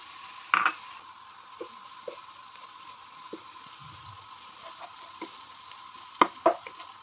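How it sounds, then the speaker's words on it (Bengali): Beaten eggs are stirred in a frying pan over a faint low sizzle, with sporadic clicks and scrapes of the spatula against the pan and a sharper cluster of knocks near the end. "ডিমটাকে নেড়ে চেড়ে ডান করে নিচ্ছি।"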